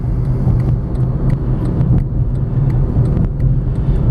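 Steady low cabin rumble inside a 2008 Honda Civic Hybrid while driving, with quiet, even road and engine noise throughout and no talk.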